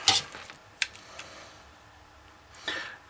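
A spoon stirs taco pasta in a pot as Monterey Jack and cheddar cheese are mixed in, with a few scraping clinks against the pot and a soft sizzle between, up close.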